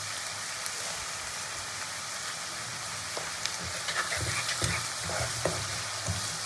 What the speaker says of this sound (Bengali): পেঁয়াজটা মোটামুটি ভাজা হয়ে গেছে